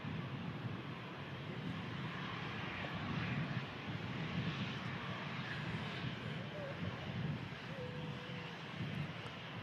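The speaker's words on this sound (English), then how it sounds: "Here it is, A350-1K next." Airbus A350-1000 airliner at Manchester Airport, its engines giving a steady, fairly distant broadband roar with some wind noise throughout.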